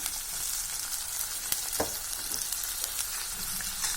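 Peas and tomato with vegetables sautéing in a pan for a veg pulao, giving a steady close sizzle with occasional soft stirring scrapes and clicks.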